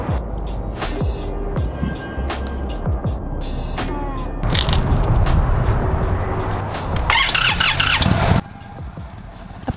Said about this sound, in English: Upon ignition, the bike sounded different than I'm used to